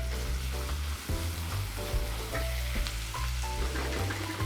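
Onions sizzle in a pan while a French-style mushroom cream chicken is being cooked, giving a dense, constant frying hiss close by, with no talking.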